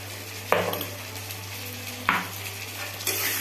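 Chicken fries in a pan with ginger garlic paste, giving a soft steady sizzle beneath three sharp scraping stirs spaced about a second or more apart, with a constant low hum behind and no voices.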